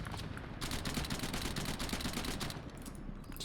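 Sustained automatic gunfire in a video game, a player emptying a magazine at an enemy helicopter, heard as a dense rattling burst over loud game background noise.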